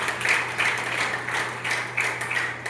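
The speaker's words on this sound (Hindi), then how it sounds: "इसके लिए भी ताली बजाएंगे।" An indoor audience at a business motivational talk claps in uneven bursts, a moderate, scattered applause with a faint low hum beneath.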